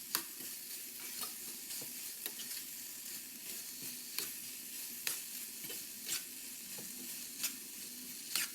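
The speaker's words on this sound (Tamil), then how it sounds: "உடச்சி விட்டு நல்லா கிளறி விட்டுக்கோங்க." Spiral pasta tossed with vegetables and masala in a pan, stirred with a spoon that scrapes and taps the metal in irregular strokes over a steady soft sizzle of frying, no talking.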